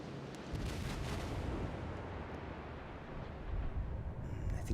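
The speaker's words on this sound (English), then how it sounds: "So I blast off a couple shots at that St. Louis" Cruiser cannons firing in a naval battle game, a dense rumbling roar of heavy gunfire and blasts rolling continuously, fairly distant and muffled, with no talk.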